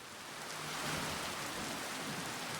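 Rain falls in the video game Final Fantasy XIV: Heavensward, a steady hiss of dense drops, soft and continuous with no voices.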